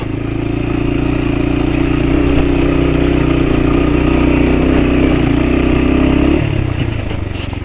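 A lightweight motorcycle engine drones loudly and steadily while riding near the sea, then the revs drop near the end; no one talks.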